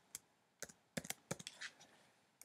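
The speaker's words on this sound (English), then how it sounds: "so we'll just type that in there" Typing on a computer keyboard while entering code, quiet and close: a handful of isolated key clicks, then a quick cluster of taps and a couple more at the end.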